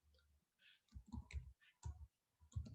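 A few sharp mouse clicks on a browser button in Chrome, sounding close and dry, spaced out in short bursts with quiet gaps between them.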